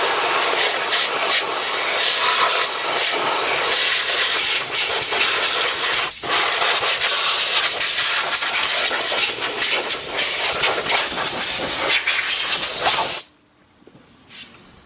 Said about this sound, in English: bring an air line up here from the garage and blow this thing off